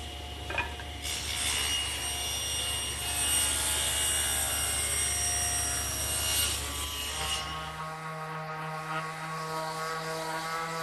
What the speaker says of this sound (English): I'm going to use this piece to rip 2 1 1/4 inch rails for the front of the table.